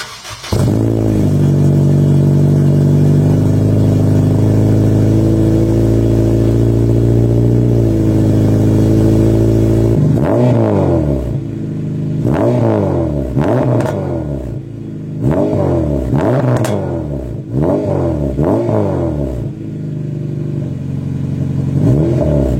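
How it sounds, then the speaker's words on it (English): A car engine idles loudly and steadily for about ten seconds, then revs repeatedly in a series of sharp, rising bursts that fall back between each throttle blip, close and prominent with no talking. "Let's finally hear the car."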